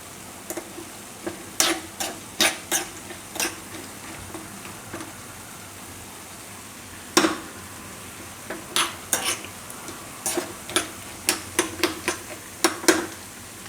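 Dry fruits roasting in a pan for saffron sweet rice, stirred with a utensil that gives sharp scraping clicks in irregular bursts, some quick and some spaced apart, over a soft, steady background hiss.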